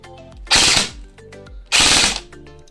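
A Double Bell M4A1 electric airsoft BB gun with an ABS plastic body fires two short full-auto bursts, each a rapid, loud, rattling string of shots lasting under half a second, separated by a brief pause, close to the listener.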